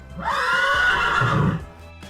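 A horse whinnies loudly and close, a long wavering neigh that rises then trails off, followed by a brief snort.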